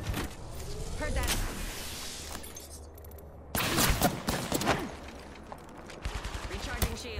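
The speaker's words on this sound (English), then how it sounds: "Getting shot at." Apex Legends gunfire, bursts of rapid weapon shots and impacts in a firefight, loud sharp volleys separated by quieter gaps, with game voice lines and effects mixed in.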